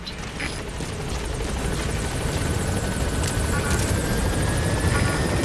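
A helicopter from the video game Metal Gear Solid V arrives as a steady, loud rotor and engine roar, growing slightly fuller over several seconds with no speech.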